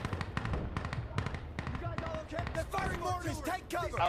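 Incoming artillery rounds explode in Insurgency: Sandstorm, a rapid string of sharp, close blasts and cracks in the first half, followed by scattered impacts mixed with voices talking over the battle.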